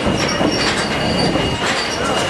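Virginia and Truckee Railroad steam train rolling near Gold Hill, with steady loud rail and wagon noise and high wheel squeals rising at intervals over a continuous rumble.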